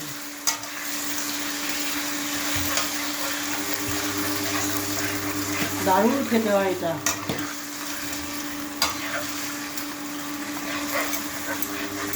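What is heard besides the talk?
yogurt-marinated chicken frying in a pan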